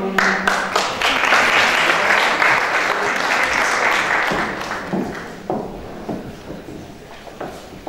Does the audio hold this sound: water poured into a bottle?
no